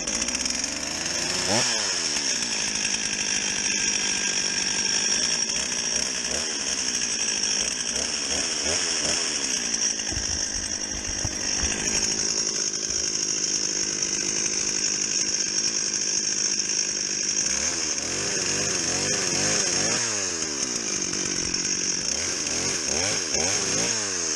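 A 1985 Sachs-Dolmar 108 chainsaw runs loud and close, its engine holding a high buzzing pitch with repeated revving swells and dips throughout.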